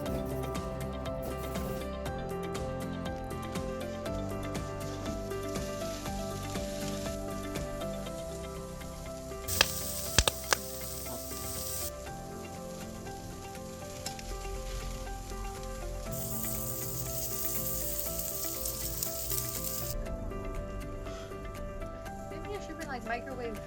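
Corn brushed with garlic butter and barbecue seasoning sizzles on outdoor grill grates at a state park cabin, a steady crackling hiss under music, with a few brighter flare-ups partway through.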